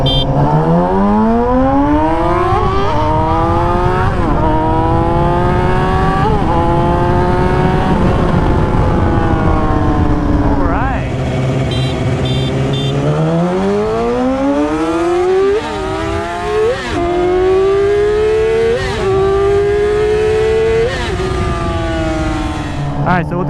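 A Yamaha YZF R6 sport bike ridden in first gear at about 20 mph, its engine loud and close, repeatedly revving up in rising whines that drop back as the throttle is rolled off, over a rushing wind noise.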